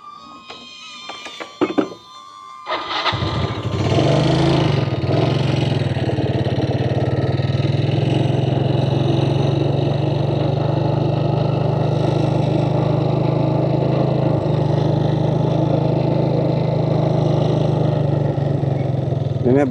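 A motorcycle starts up with a few sharp knocks, then its engine settles into a steady, loud, close drone that holds for nearly twenty seconds as the bike rides off, with no talking over it.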